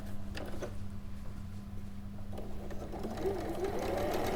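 Sewing machine running steadily while stitching a quarter-inch seam on a bold bloom quilt, a soft continuous mechanical hum with a low buzz throughout, building slightly toward the end.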